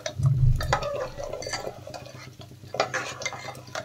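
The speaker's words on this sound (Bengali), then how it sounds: "দেখেন গরম জল দিয়ে দিচ্ছি।" Hot water pours into boiled dal for sambar in a pressure cooker, a splashing gush set among clattering spoon and pot knocks, with bursts of liquid sound and metallic stirring close by.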